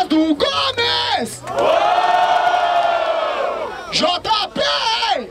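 Crowd at a rap battle event in Barueri, São Paulo, cheering, shouting and whooping loudly in a sustained roar between bursts of amplified voices.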